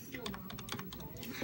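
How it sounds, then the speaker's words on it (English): Rapid typing on a computer keyboard, a dense patter of close key clicks running steadily throughout, fairly quiet and without speech. "Pressing stuff on my keyboard."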